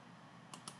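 Typing on a computer keyboard: two crisp, close key clicks a fraction of a second apart, rising over a low, steady room hiss, with no voice present.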